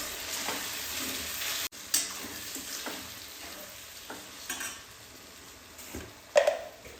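Kathiawadi-style brinjal bharta (ringan no oro) sizzles steadily in a pan at close range while being stirred, with occasional scraping knocks over a continuous frying hiss and no voices.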